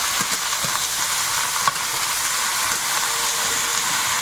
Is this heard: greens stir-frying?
yes